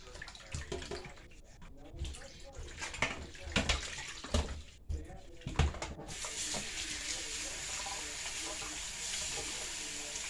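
Running tap water rinses freshly scaled fish being prepared for Jamaican escovitch, an uneven splashing wash broken by clattering handling that gives way after several seconds to a steady, close, unbroken stream.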